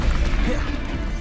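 Bombarda blasting spell in Hogwarts Legacy, a dense, loud crashing blast with broad rumbling noise, brief and close, no speech over it.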